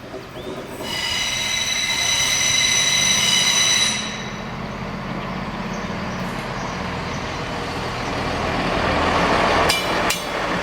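A freight train carrying pipes on the Rothaarbahn line between Kreuztal and Bad Berleburg, Germany, rumbles past close by with squealing wheels and a loud horn-like tone early on, heavy rolling noise continuing as wagons go by.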